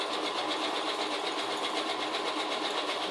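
A domestic sewing machine stitches a buttonhole on a Batman-themed tote bag, a steady, loud, rapid mechanical whirring and clatter running continuously without pause.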